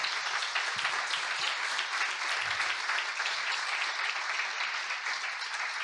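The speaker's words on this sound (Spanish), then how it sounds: "Dale un aplauso a Cristo." A church congregation claps steadily throughout in a dense, even wash of applause, moderately distant and sustained without pause.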